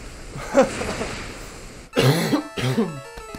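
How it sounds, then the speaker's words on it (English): A person coughs a few times in quick, harsh bursts, with short pauses between them, close and fairly loud. "sorry about the cough"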